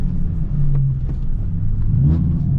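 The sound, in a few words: drift car engine revving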